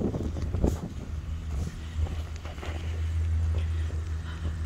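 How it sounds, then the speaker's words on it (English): Steady outdoor wind at a lakeside camping area on Lake Ellesmere rumbles low and constant, buffeting the microphone, with occasional faint knocks and shuffles in the background. "It gets pretty windy sometimes out here."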